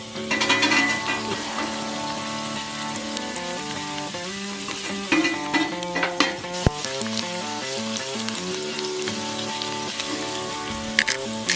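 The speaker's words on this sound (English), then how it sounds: "Steak and potatoes on the little mini cook stove." Steak and potatoes sizzle steadily on a small mini cook stove, a constant frying hiss with occasional clinks and scrapes of a utensil, heard up close without talk.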